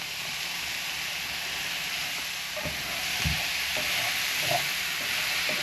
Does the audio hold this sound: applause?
no